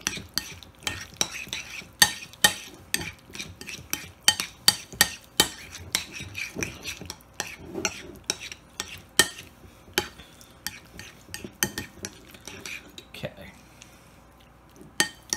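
A spoon stirs Velveeta cheese into a backpacking meal of pasta and Prego sauce in a pot, making a close, irregular series of sharp scrapes and clinks against the metal, with a few quieter gaps.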